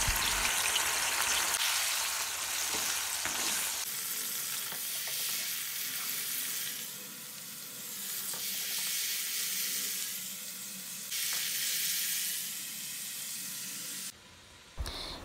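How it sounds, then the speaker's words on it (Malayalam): Loud, continuous sizzling of prawns frying in a pan, with occasional stirring scrapes and swells in intensity, no talking. "ഇപ്പോൾ നമ്മുടെ ചെമ്മീൻ ഫ്രൈ ആയിട്ടുണ്ട്"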